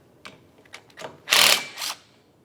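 A wrench works a 15mm nut off the wiper arm of a 1998-2002 Lincoln Navigator, giving a few short close metallic clicks and then two louder ratcheting bursts.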